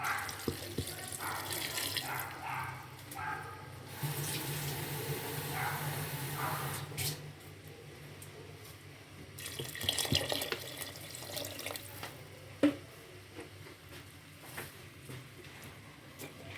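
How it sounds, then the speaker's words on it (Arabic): Water pours from a tap into a pot of fava beans in a kitchen, a soft running splash that stops and starts several times, faint and close, with a small clink near the end. "غادي نديرو الماء على حساب قياس ديالنا."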